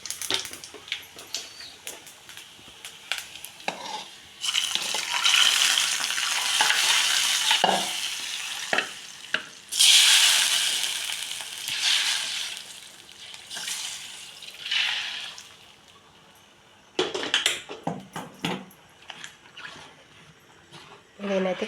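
Lentils and curry leaves frying in hot oil, a continuous sizzle that swells and fades with stirring scrapes and clinks, with a person talking intermittently over the cooking.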